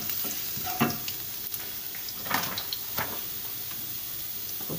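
Garlic frying in a pan gives a steady, close sizzle with occasional soft clicks and stirring scrapes, and no talking.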